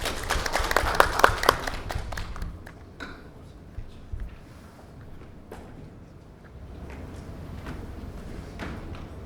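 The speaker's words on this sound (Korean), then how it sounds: "박수 좀 부탁드립니다." Audience clapping at an academic philosophy conference, a burst of applause in a lecture hall that fades after a few seconds, leaving quiet room noise with scattered taps and shuffling.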